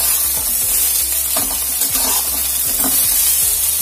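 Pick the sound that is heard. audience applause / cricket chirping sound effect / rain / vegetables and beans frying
vegetables and beans frying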